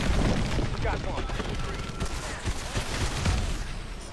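Gunfire in the shooter game Advanced Warfare, during an aerial chase: dense, rapid bursts of loud automatic fire and booming impacts roll on continuously, with a voice talking underneath.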